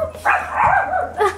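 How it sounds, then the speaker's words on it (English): Dogs bark close and loud in a quick burst of sharp, excited yips and barks, the calls running together over about a second and a half with no talk heard. "There goes the dogs."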